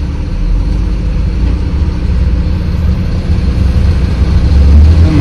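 An overloaded truck's engine idles heavily in a roadside jam, a loud, steady low rumble that swells slightly toward the end as it revs.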